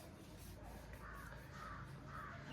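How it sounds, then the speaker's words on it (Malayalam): Morning crows caw several times in the distance, faint repeated calls over a low steady background hum. "കിളികളുടെ ശബ്ദം"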